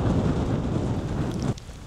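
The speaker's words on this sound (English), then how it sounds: "the heavens have opened. None of us have brought a coat, which is typical. It hasn't rained like this for a while" Heavy rain pouring on a beach, a dense, loud hiss and patter that cuts off sharply near the end, with no voices.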